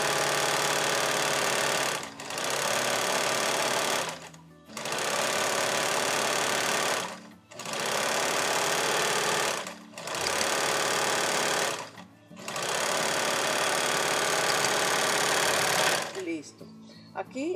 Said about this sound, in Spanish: ahorita ya voy a pegar el encaje en la otra manga para que ustedes vean cómo se va a cerrar ahorita